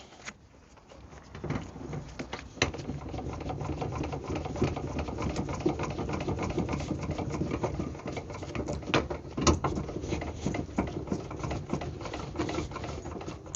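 A trailer jockey wheel is cranked by hand to stabilise the trailer, giving a fast, steady mechanical whirring and clicking patter from close by, alone without voices.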